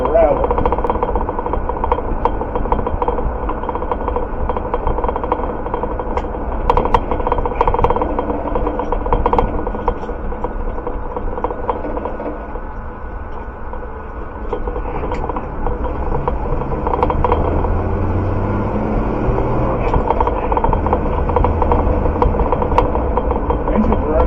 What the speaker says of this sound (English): Engine's running pretty good,